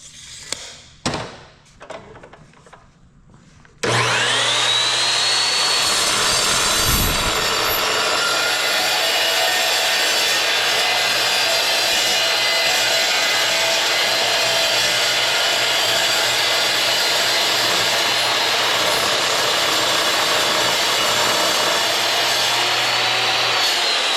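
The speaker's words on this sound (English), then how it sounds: "So now I'm going to cut my 48-inch one for the brace on the inside." A power tool cuts a 48-inch brace for a UTV truck rack: after a few soft knocks, a loud, steady high whine starts suddenly and runs unbroken for about twenty seconds.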